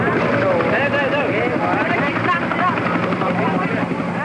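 A helicopter's rotor roars continuously and loudly, with a voice talking over the mechanical drone.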